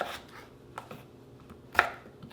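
A knife cutting a potato into chunks on a board, with a few sharp, irregular chops and clacks close by, spaced apart with soft quiet gaps between them.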